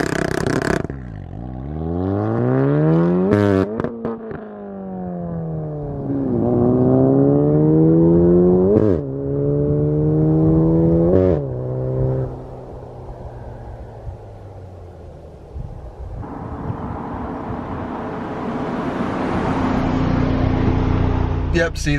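A turbocharged car making about 6-7 PSI of boost launches hard on launch control, its engine revving and climbing through rising gear shifts with a fumbled second-gear change, loud and close with talk over it.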